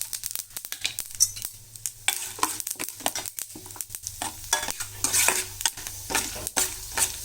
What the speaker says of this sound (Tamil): இப்போ இந்த கடுகு பொரியுது